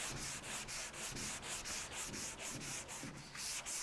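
Hand sanding across a panel with even pressure in crossing strokes, a steady rhythmic rasping scrub repeating about twice per second, close and alone with no talking.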